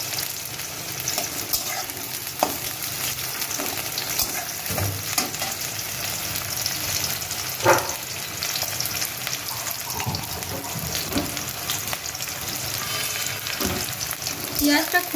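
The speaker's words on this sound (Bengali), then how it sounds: "পেঁয়াজটা খুব বেশি ভাজবো না, একটু এরকমই থাকবে।" Onions frying in a pan give a loud, steady sizzle, broken now and then by scrapes and light knocks of stirring, with no voices.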